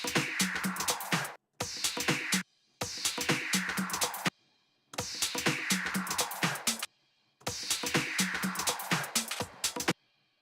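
A crash cymbal sample in Ableton triggered repeatedly, each bright, noisy splash sustaining for over a second before cutting off abruptly, about four hits separated by short silences.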